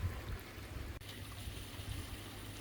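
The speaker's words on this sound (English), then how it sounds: "from the river to the waterfall and back to the pond again" Koi pond water tumbles from a waterfall and runs back into the pond, making a steady, faint trickling and rushing wash without any voices.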